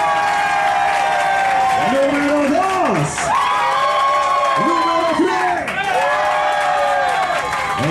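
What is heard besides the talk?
crowd applauding and cheering on a yacht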